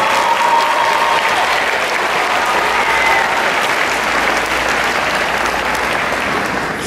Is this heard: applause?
yes